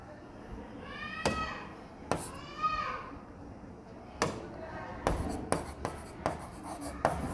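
Pen strokes scratch across paper while accounting entries are written out by hand, coming as a series of short scribbling bursts with brief pauses between them.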